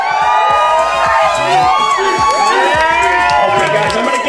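Wedding guests cheer loudly, a dense crowd of whoops and shouts with excited high voices, sustained and close throughout.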